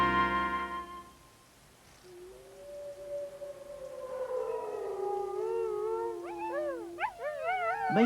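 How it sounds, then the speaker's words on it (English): A husky dog howls with a long, rising and wavering tone that grows louder and breaks into several wobbling howls toward the end, heard alone without talk. "It's certainly that eerie, desperate howl that sets the husky apart from the rest of the canine kingdom."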